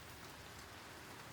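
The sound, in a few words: rain at night in the video game Hanako's Flower Shop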